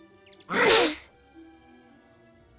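A single loud, close sneeze bursts out and fades, followed by quiet room tone in a cemetery setting during a Fable Anniversary game scene.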